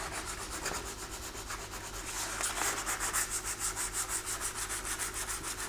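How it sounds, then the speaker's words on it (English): Hand sanding primer on a car body panel, a steady back-and-forth scratchy rubbing in close, rhythmic strokes that grow slightly louder and more regular midway, with no talking. "You can always use your hands to sand certain areas"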